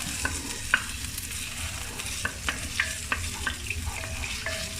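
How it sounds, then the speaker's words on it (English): A ladle stirs a pot of tom yam soup with prawns and chicken, making a row of light, evenly spaced clinks and scrapes over a soft, steady background hiss. "Give it a stir."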